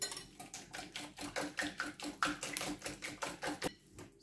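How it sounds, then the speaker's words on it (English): Spoon scraping and tapping around a bowl while wet ingredients for chocolate banana bread are stirred together, a steady rhythm of about sixteen quick close strokes, each a bright clink or scrape, with no talking. "I'm going to stir this and mix this together"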